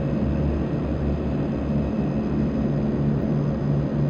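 DHC-6-300 Twin Otter turboprop engines in Flight Simulator X, a steady, loud propeller drone with a low rumbling throb and a constant tone, heard alone.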